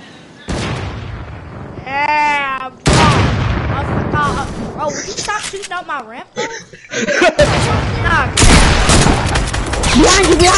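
Rapid gunfire bursts from the video game Fortnite crackle through a busy firefight, loud and close, mixed with booms and several people talking and laughing over the action.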